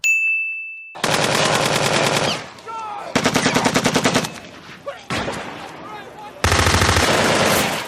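Automatic gunfire from The Walking Dead TV series, loud sustained rapid bursts of shots in several blocks separated by short gaps, with a brief tone before the first burst.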